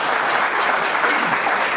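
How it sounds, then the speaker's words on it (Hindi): Audience members at a panel discussion on training and skill development in direct selling give a continuous, even round of applause, a thick wash of clapping with no voices above it. "और ज़्यादा ताली से, बहुत तालियां हैं।"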